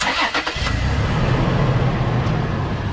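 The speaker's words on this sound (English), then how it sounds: "Start the car." A car engine cranks with a short stuttering burst of starter noise and catches, then settles into a loud, steady idle rumble close by while a tire is being checked for a nail puncture.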